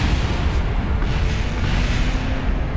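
A space probe explodes in a modded Kerbal Space Program game, a deep, rumbling blast that sustains as a heavy low roar across the whole stretch without any talk.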